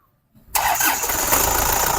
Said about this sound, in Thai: เดี๋ยวฟังเสียงเครื่องนะครับ สตาร์ทเสียงเครื่องหน่อย